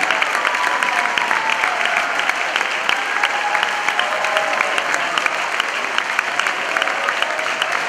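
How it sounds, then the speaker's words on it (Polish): A big audience at a choir competition keeps up thick, continuous clapping at the Grand Prix announcement, an even wash of many hands with only faint voices mixed in. "Big applause for everybody."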